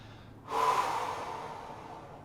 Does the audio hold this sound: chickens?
no